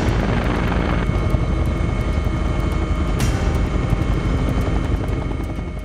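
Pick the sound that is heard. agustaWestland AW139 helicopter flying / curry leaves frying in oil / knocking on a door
agustaWestland AW139 helicopter flying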